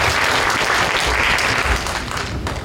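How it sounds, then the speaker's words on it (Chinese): Sustained audience applause fills a tech conference hall at COSCUP 2013, a dense steady clatter of many hands that holds throughout and fades slightly at the end. "那请大家给他一点掌声"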